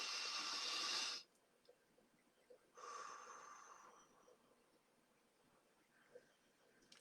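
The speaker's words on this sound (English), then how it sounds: "Let's take a deep breath." One person takes a deep breath: a long, airy inhale through the nose, a pause, then a softer, drawn-out exhale, close and fairly quiet in otherwise near silence.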